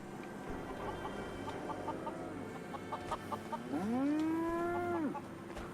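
In-game livestock in Fallout 4, Brahmin cattle and chickens at a rebuilt Diamond City, make a scatter of soft clucks before a long, drawn-out moo rises clearly over the quiet background.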